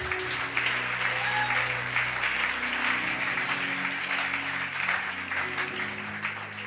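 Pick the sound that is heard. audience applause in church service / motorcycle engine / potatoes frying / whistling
audience applause in church service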